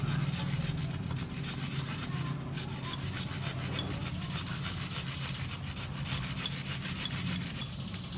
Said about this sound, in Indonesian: Nah, gunakan gergaji besi.